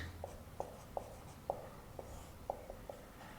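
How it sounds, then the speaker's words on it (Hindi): Pen strokes writing a point by hand during a Hindi lecture, a series of about eight short, evenly spaced taps and scratches, faint and close, with no talk over them. "हम इससे पहले भी एक पॉइंट लिख लेते हैं"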